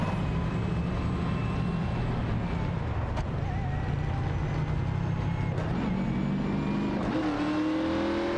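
A field of race cars in iRacing on a superspeedway roars continuously, with layered engine drones and a rising rev near the end, loud and sustained, with commentary talk underneath.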